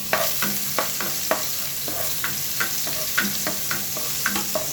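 Chili, ginger and garlic sautéing for an octopus dish make a constant loud sizzle, broken by regular scraping stirs of a spatula in the pan.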